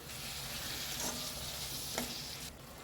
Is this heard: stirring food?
yes